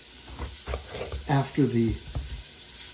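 Onion, garlic and pepper sautéing in a pot for Spanish picadillo, a steady low sizzle running under a few brief spoken words.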